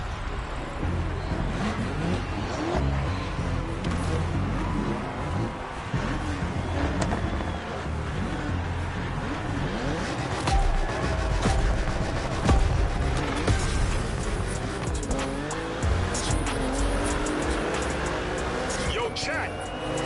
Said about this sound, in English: You're shifting gears when the sound of your engine asks you to.